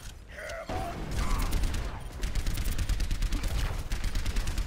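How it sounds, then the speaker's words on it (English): Gunfire in the Overwatch video game aimed at Roadhog, with rapid, steady shots and mechanical clatter that run almost continuously at moderate loudness. "Man, a Roadhog, that's always fun to shoot at"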